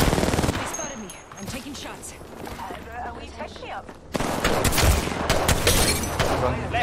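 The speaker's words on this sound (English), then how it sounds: "They spotted me. I'm taking shots." Rapid gunfire bursts from weapons in the battle royale game Apex Legends, dense and fairly loud, with a heavier stretch of shooting in the second half and a player talking over it.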